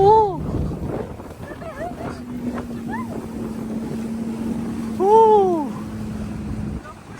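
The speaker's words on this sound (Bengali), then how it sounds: "আমাদের ভাই ইয়েটা স্পিড বোটটা টান দিছে" A speedboat runs across open sea, its steady engine drone and wind noise continuous throughout, with people talking and calling out loudly over it close to the microphone.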